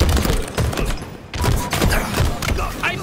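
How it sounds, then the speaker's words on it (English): Shotgun blasts in Halo, a string of heavy thumping shots at an uneven rhythm with a brief pause midway, loud and close. "I don't know why I'm shooting from that far with a shotgun"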